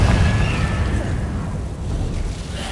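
A Confringo spell explosion in Hogwarts Legacy booms as a loud, sustained low rumble that rolls on for the whole moment without a break.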